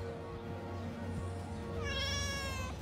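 A cat gives a bleating, sheep-like call that rises briefly near the end, faint over a low indoor hum.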